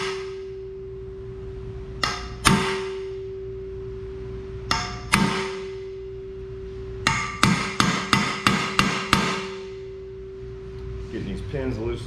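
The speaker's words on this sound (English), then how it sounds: "take a punch and a hammer, a punch with a nice flat surface on it, and give a sharp blow on that" A hammer strikes a flat-faced punch to drive pins out of an Eckold HF100 tool plate. About a dozen sharp, ringing metallic blows land close by, first spaced apart and then in a quick run, over a steady hum.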